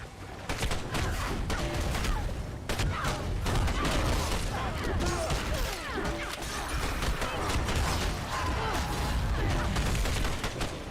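Gunshots in Evil Dead: The Game, steady loud bursts of rapid fire and crashing impacts running throughout, with a voice faintly under the din.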